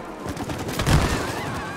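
A short burst of gunfire during a wasp attack in the co-op game It Takes Two, peaking sharply about midway over busy game noise.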